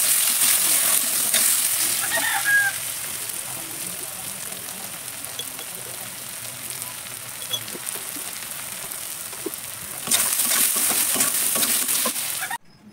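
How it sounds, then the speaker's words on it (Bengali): Two eggs frying in a pan for breakfast give a steady, close sizzle that runs the whole time, louder at the start and again near the end, with no talking. "একই সাথে আমার দুই ভাই বোনের জন্য দুটো ডিম ভেজে নিচ্ছি সকালে খাওয়ার জন্য"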